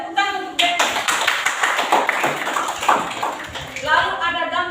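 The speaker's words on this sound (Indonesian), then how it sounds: "Ya, tepuk tangan untuk Devi." A classroom of students applauds a classmate, with a burst of dense, quick clapping that runs for a few seconds between the teacher's spoken words.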